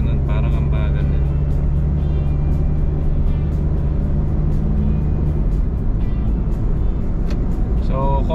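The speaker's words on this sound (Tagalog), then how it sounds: "Parang ang pabagal ng mga sasakyan na siya." Slow-moving traffic on the C5 Cavitex Southlink expressway interchange rumbles steadily with continuous engine drone and low road noise, with voices heard over it.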